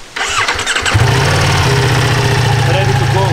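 A Ducati Multistrada V4S motorcycle, rated at 170 hp, starts with a sudden catch, then settles into a loud, steady, close idle, while someone talks over it at the start and end.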